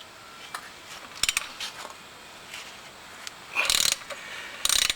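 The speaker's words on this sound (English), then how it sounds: "I'm going to start cracking these bolts loose." A ratchet loosening Loctite-secured rear sprocket bolts on a motorcycle during a 520 chain and sprocket kit install, a few quick clicking ratchet bursts and light metallic ticks, close, with faint background noise and no talk.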